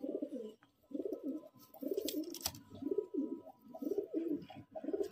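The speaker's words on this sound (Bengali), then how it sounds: "মাদিটা অল্প বয়সের পায়রা এবং ভালো ওড়াইয়ের পায়রা" Pigeons, including a young high-flying female, coo close by in repeated throaty bursts separated by brief pauses, with no talking over them.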